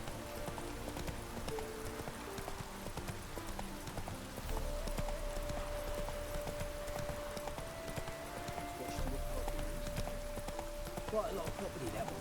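The horse Roach gallops in The Witcher 3, its hooves clip-clopping in a steady running rhythm under soft game ambience and background music, with a brief whinny-like tone.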